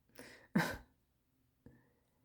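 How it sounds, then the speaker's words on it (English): A couple of short, close coughs in quick succession, followed after a pause by a softer single cough, with quiet in between. "talking is starting to make me cough"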